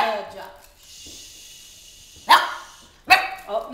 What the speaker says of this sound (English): Barking isn't allowed.